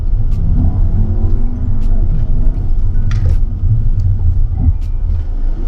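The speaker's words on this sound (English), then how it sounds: "So right now we're going to be doing the braking test, straight off the line, full throttle." A Volkswagen Arteon or Tiguan Allspace launching at full throttle on a test course before a braking test, its engine a loud, steady, close rumble throughout with no talking.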